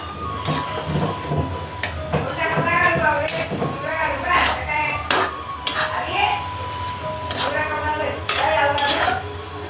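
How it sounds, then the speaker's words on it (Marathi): Fenugreek leaf bhaji is mixed in a pan with repeated metal spoon clinks and scrapes against the pan over a light sizzle, with voices talking in the background. "चांगलं मिक्स करून घ्यायचे मस्त भाजीला"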